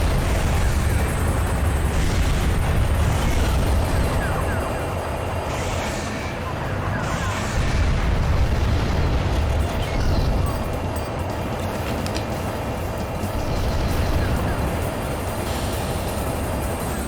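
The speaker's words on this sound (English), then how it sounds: "Dude, the explosion." Armored Core 2 gameplay with an enemy boat, carrying a long, loud, roaring rumble of explosions that stays dense and sustained throughout, with swelling surges.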